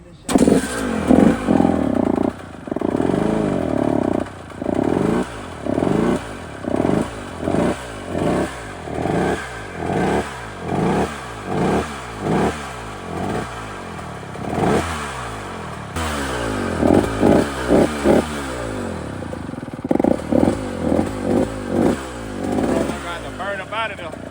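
A KTM SX125 two-stroke dirt bike engine, previously damaged and running on a heavily oiled fuel mix, cranks and revs in repeated loud bursts with a rhythmic rising and falling pattern, close by, with a voice talking over it.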